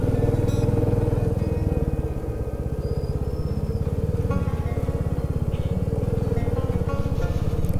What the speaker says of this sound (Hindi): कंटिन्यू बाइक चढ़ ही रही है काजा की तरफ